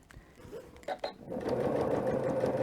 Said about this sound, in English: I'm going to do just a straight stitch